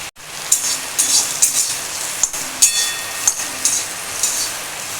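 Pieces of pointed gourd (potol) fry in oil with turmeric and salt, a soft hiss broken by a series of sharp spattering pops that come every half second or so.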